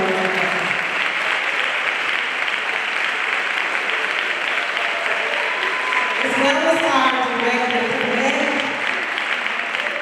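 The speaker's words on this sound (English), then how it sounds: "please stand again and give this group a hand of applause for all of the work" A breakfast audience at an MLK commemorative event applauds in a steady, sustained round, with someone speaking over the clapping through the latter part.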